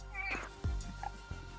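A house cat gives a short meow close by indoors, a brief high cry amid faint room noise and soft handling sounds.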